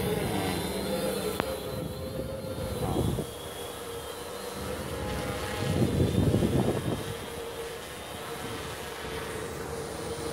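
A remote-controlled drone flying during operator training gives a steady whirring, propeller-like drone that swells in places while people talk nearby.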